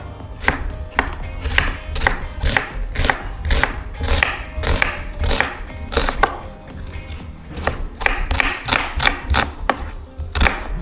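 Sharp, rhythmic knife chops strike a board while pork ribs are cut for oven-baked BBQ, a dense run of loud, close cuts with slight unevenness and no talking.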